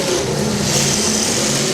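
A loud, gritty demolition derby car engine revs hard up close from its stacks, a rough roaring drone that surges and holds without any talk over it.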